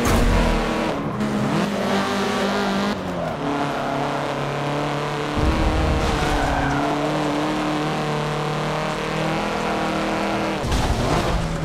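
Race car engine in Forza Motorsport 7 roars loudly and steadily through gear shifts, with revving rises and brief tire squeals, a faint voice barely underneath.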